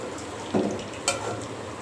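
Snacks fry and puff up in hot oil in a wok, giving a soft continuous sizzle with two brief louder bursts, close by and with no talk.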